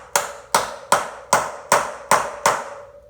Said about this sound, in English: to seat our bearing, we have an old socket right there. And you just want to get it tapped down as much as possible